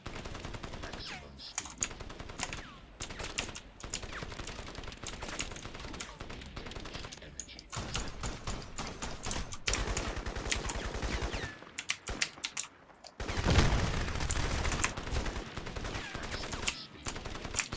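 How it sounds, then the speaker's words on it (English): Sustained firefight among AI soldiers in the Crysis video game, with dense overlapping gunfire bursts and explosions that keep going throughout, a voice sometimes talking over the battle. "So you can see you can script out a pretty awesome firefight just by using little tricks like that."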